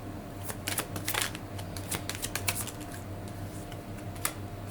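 Tarot cards being shuffled up close, giving a steady run of quick papery riffles and flicks with a few sharper snaps, heard alone with no talking.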